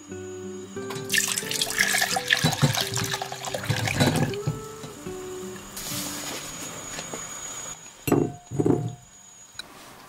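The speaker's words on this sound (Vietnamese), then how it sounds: "Trứng cút thì mình dùng trứng hộp lọc nước bỏ đi ha." Liquid drained from a can of quail eggs in a kitchen: a continuous watery splashing and pouring that rushes loudly, then tapers to a few short gurgling spurts near the end.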